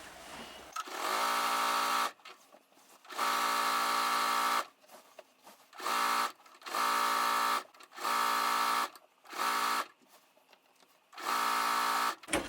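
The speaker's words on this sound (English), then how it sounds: "I'm just going to run a very quick stitch along the very edge of the quilt top" A sewing machine stitches along the edge of a quilt top in repeated buzzing bursts of one to two seconds, separated by brief pauses, close and clear with no talking.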